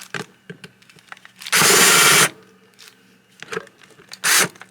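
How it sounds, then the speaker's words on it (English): A step drill bit spins up in a loud burst of under a second while drilling a hole, then a brief second burst follows after a pause, with faint handling noises around them. "I'm using a step drill"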